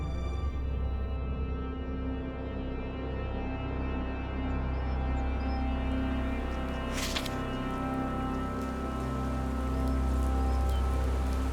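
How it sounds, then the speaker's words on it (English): Heavy rain pours down in a continuous, loud, dense hiss. A low steady drone runs beneath it, with no voices. "The heavy rain created miserable conditions for the troops on the march"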